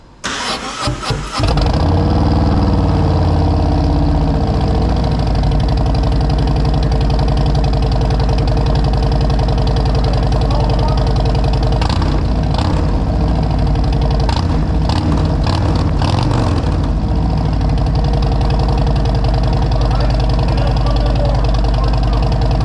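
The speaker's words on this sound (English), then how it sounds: "I'm gonna do idle, then I'm gonna do just a small throttle, then I'm gonna do a larger throttle" A motorcycle engine fitted with Tab Performance 4.5-inch B.A.M exhaust sticks with Zombie baffles cranks and fires up, settles into a loud, steady idle, then gives a few short throttle blips and revs before dropping back to idle.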